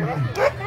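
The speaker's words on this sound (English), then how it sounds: "We got the Streeper dogs." Sled dogs at the start of the Fur Rondy Open World Championship race on 4th Ave in Alaska give a short, loud bark and yip, with voices from the crowd mixed in.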